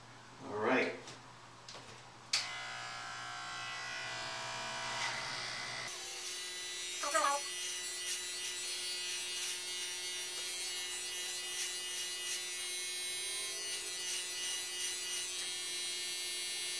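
An electric beard trimmer with a quarter-inch guard cuts through a long five-inch beard, giving a steady close buzz that runs continuously for most of the stretch after a few brief handling knocks at the start.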